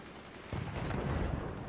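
Machine-gun fire in the fortress-building war game Forts, a sustained rattling burst that starts abruptly and runs loud and dense to the end, with no one talking.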